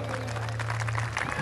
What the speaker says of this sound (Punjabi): ਕਿੰਨੀ ਵਧੀਆ ਤਾੜੀ ਜਿਵੇਂ ਤਰਪਾਲ ਤੇ ਕਣੀਆਂ ਪੈਂਦੀਆਂ ਨੇ